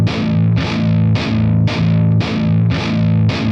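Distorted electric guitar played through a Neural DSP Quad Cortex amp model, loud chugging palm-muted chords struck in a steady repeating rhythm of about seven hits, alone and up close.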